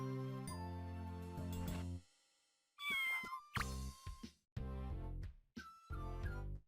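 A cartoon cat in the Scribblenauts video game meows repeatedly, several clear tonal calls with short gaps between them, loud and close with no talking.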